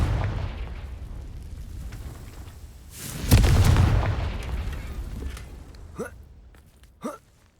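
A single booming burst from a Confringo fire spell in a Harry Potter video game erupts midway and fades into a rumbling tail, with softer game sounds and small pops before and after.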